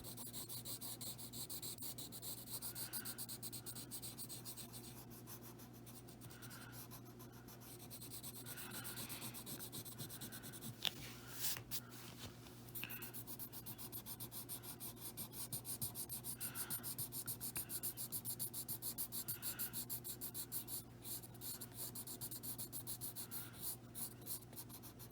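Colored pencil rubbing and blending over gesso on a coloring page, a continuous soft scratchy rasp in close strokes with one sharp tap partway through.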